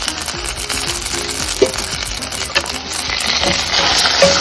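Chopped cashews sizzle and crackle in a hot pan, with a few clicks and scrapes of stirring over a steady frying hiss.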